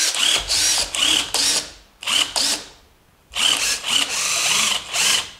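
A SnapFresh 20V cordless impact driver, model BBT-POB04, runs in several bursts, its rapid hammering whir stopping and starting, close and loud, with a brief pause midway.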